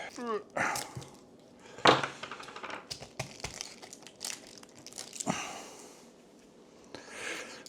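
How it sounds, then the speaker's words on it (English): Tape wrapped around the wire ends of a downtube solar e-bike battery, giving close crinkling, tearing and crunching bursts that come and go irregularly, with a person talking in between. "I'm definitely have to run some tape around it for a second"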